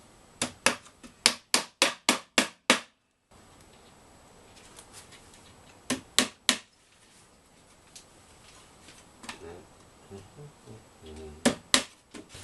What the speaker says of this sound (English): So basically we're just nailing those on at the moment.